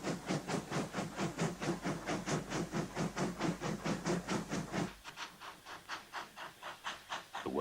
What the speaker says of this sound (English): Workers step safely aside at the sound of the approaching train.